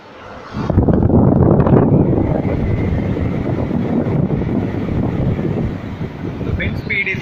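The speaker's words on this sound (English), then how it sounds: "Let's turn the cooler on and see." A Sansui 37 L room air cooler switches on and settles into a loud, steady rushing of blown air with a low fan hum, close by and continuous after a brief quiet start.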